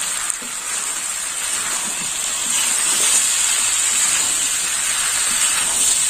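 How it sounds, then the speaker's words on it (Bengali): A vegetable curry spiced with panch phoron is stirred and fried in a pan, a steady bright sizzle and hiss that holds throughout and grows slightly louder partway. "এইভাবে কষে নিতে হবে। যত কষে তরকারির স্বাদও তত সুন্দর হবে।"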